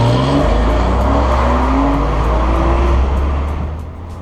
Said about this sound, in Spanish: Lo mejor de todo, sin duda, del coche era el sonido.